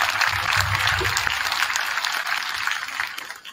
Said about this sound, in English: we like to give a big round of applause for our office staff for all their extra work